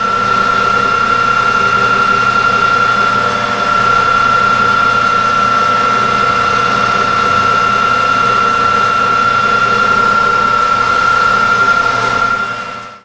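A homemade steam wagon's engine runs steadily with a constant vibrating drone and a sustained whine, loud and unbroken for most of the stretch before cutting off abruptly at the end.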